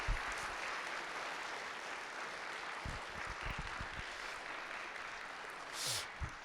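A church congregation at a Christmas service applauds the choir with sustained, even clapping that fills the room at moderate volume.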